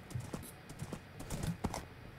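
Horse hooves clopping during riding in the Minecraft video game, a quiet, steady series of light thuds and clicks over a constant low background hum.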